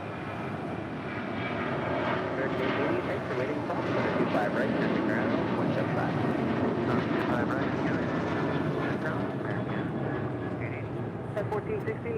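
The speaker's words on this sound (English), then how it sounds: "Heading to Houston, Texas, United Airlines flight 1416. It's a 737-900ER rolling down 25 right." A United Airlines Boeing 737-900ER rolls for takeoff down runway 25 right at Los Angeles airport, a steady loud jet engine roar filling the whole stretch with faint voice traffic beneath it.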